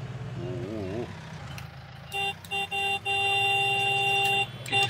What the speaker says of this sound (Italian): Chi è che suona il clacson?